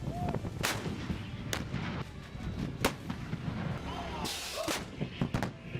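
M777 howitzer artillery fires several heavy booming shots at irregular intervals, each a loud sharp blast with a rumbling tail, against steady background noise and some talk.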